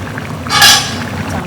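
Tamarind going into a simmering chicken curry makes one brief, splashy pouring burst that is close and fairly loud, with quiet kitchen background before and after.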